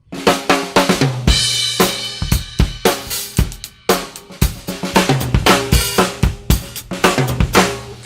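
A full acoustic drum kit played dry and close, heard unprocessed through the microphones of a Yamaha EAD sensor, with sharp repeated hits of kick, snare and cymbals in a steady, busy groove.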